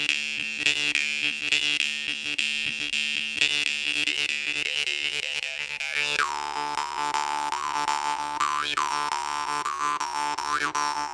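A Shaun Jones jaw harp twangs with bright, strongly ringing overtones, struck repeatedly in a rhythmic pattern at first, then shifting to a sustained, wavering drone with sharp periodic accents, close and loud.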